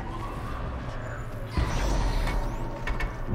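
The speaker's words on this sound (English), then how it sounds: "There's some kind of big ass fucking machine there." A giant robot machine in Horizon Zero Dawn moves with grinding, creaking mechanical clanks, swelling louder midway over a rumbling game soundscape.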